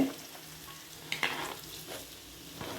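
Vegetables such as onion, beans and carrot stir-fry in a pan for veg fried rice, giving a quiet, steady sizzle with a few brief scraping stirs.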